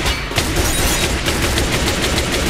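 A gun fires in a Minecraft game in rapid, continuous bursts, a dense and loud run of shots with no voices over it.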